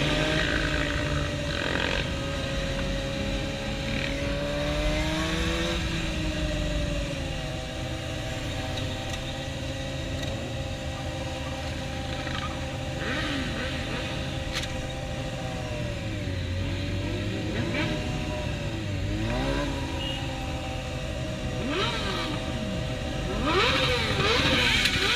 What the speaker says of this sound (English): an angry truck driver decided to overtake all the bikers